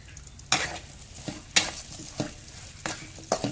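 Onions crackle and sizzle in a hot pan, with several sharp stirring scrapes at uneven intervals over a steady low frying hiss, close and clear, no voices.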